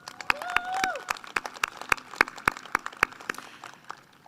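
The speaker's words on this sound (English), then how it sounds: "Let's give him a round of applause." Audience applause at a spring commencement ceremony for the commencement committee chair: sharp, evenly spaced claps in a steady rhythm for several seconds, fairly close, with a brief tonal sweep near the start.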